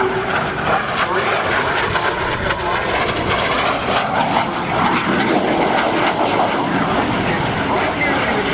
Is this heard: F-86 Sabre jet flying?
yes